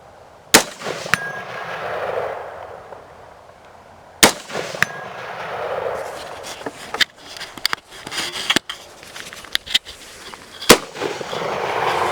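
Several sharp gunshots from an AR-15 rifle chambered in 7.62x39, spaced irregularly across an outdoor range, loud and close, with one isolated report, a pause, then a quicker string of shots, each followed by a brief ringing tail.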